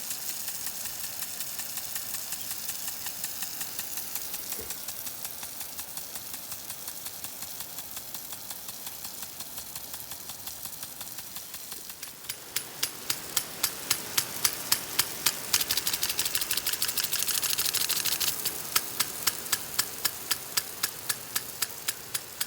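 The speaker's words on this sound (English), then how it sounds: "That thing packs a lot of punch to be such a small sprinkler." A small wheeled-cart lawn sprinkler sprays water at 80 PSI outdoors, a steady broad hiss that turns into a fast, loud ticking rhythm of repeated impacts partway through, with no voices.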